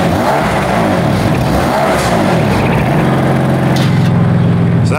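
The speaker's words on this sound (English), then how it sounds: "Now we're gonna do the warm start." A warm start of a BMW V8 with its exhaust valves closed, a loud, close engine roar that settles into a steady, throbbing idle.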